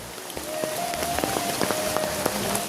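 Heavy rain falls on a road beside a mosque, a dense steady patter with scattered louder drops striking nearby surfaces, continuous throughout.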